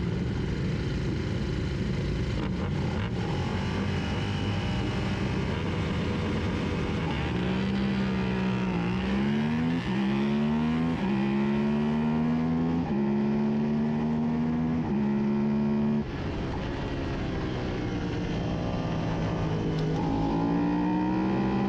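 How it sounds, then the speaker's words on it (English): Suzuki SV650 motorcycles at the start of a Thunderbike sprint race at New Jersey Motorsports Park, with loud, close engine roar rising and falling through repeated gear changes and a steady wind rush throughout. "this is the start of the Thunderbike race, which was my first sprint of the day"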